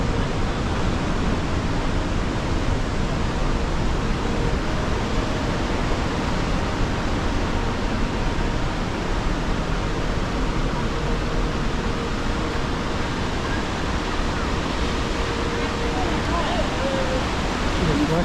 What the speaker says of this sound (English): It's rushing water.